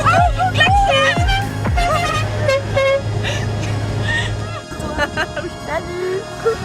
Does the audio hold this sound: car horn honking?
yes